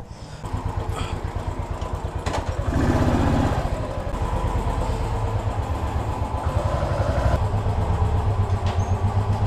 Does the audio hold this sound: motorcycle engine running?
yes